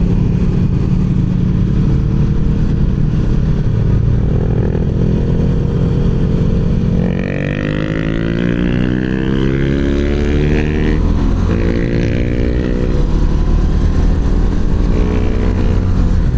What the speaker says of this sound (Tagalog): Sarap talaga magmotor.